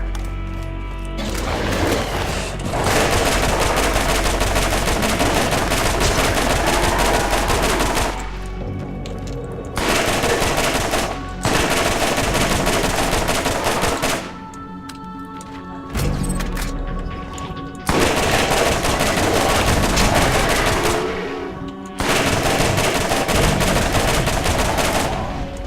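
Automatic weapon fire from a gun with a modest fire rate in the video game Borderlands: loud rapid bursts repeated several times, broken by short pauses, with no talking.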